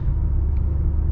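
A BMW X6M with a 575 hp engine runs in a deep, loud, steady rumble heard from inside the cabin, constant throughout the short stretch.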